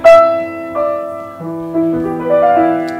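Handmade grand piano notes ring out alone, a few chords and single tones struck in sequence with a warm sustained decay, close and fairly loud.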